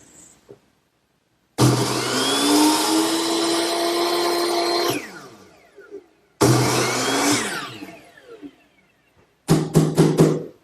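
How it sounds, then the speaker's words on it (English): A power miter saw slices through wood window stop molding in three bursts: a motor whine spins up, the blade bites with a rough rasping roar, then it winds down, the last cut short and choppy. "I'll just take it over to my miter box, which just has been set at the right angle, and this is where I'll make all my cuts."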